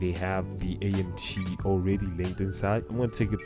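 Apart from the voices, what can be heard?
No everyday noises stand out.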